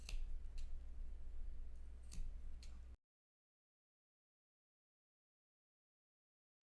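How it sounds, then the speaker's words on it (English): Scissors make a few short snips into the corners of a coat lining's fabric, close by and quiet, with nobody talking. After about three seconds there is silence. "you're going to do little snips in here. So you're just going to snip"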